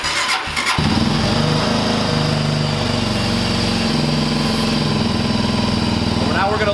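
A Genuine G400C motorcycle engine cranks with a brief starter whir, fires and settles into a steady, close, loud idle that continues to the end.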